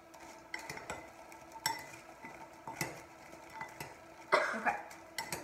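Keto cereal pieces get tossed in butter inside a bowl, making close, irregular rattling clinks and scrapes with quiet gaps between the bursts.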